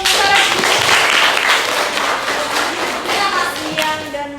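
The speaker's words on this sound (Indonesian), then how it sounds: "Tepuk tangan dulu untuk Farel." A class of students clapping for a classmate who answered a question, a dense burst of close applause that carries on steadily for several seconds.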